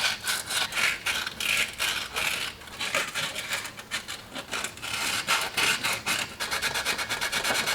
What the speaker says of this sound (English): I'm gonna try and clean up the hole the best I can with some sandpaper